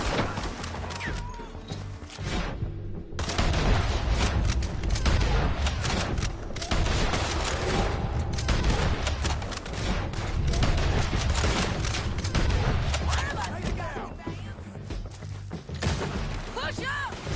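Repeated gunfire in the Red Dead Redemption 2 western game, a continuous stream of loud close shots and crackling volleys layered with shouting voices throughout.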